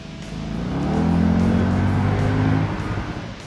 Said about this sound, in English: you can hear the roar from the engine, every pop and crackle from the exhaust when you downshift